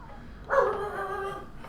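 A dog lets out one drawn-out, moderately faint yelping whine lasting about a second, against quiet background noise.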